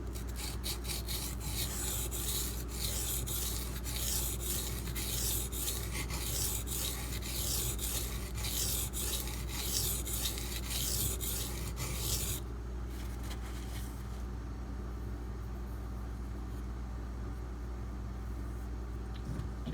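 A knife blade, a Brous Bionic XL in D2 steel, is stroked across a 240 grit sharpening stone, giving steady rhythmic rasping passes that continue for about twelve seconds, then give way to quieter scraping.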